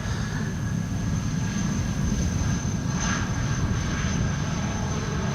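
An Airbus A330 airliner arriving in crosswindy January weather, its engines producing a steady, subdued roar and hiss with a faint whine, loud and constant throughout.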